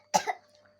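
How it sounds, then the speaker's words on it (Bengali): A child gives a single short, sharp cough, close to the microphone, in an otherwise quiet moment. "তোমার কাশি হয়েছে?"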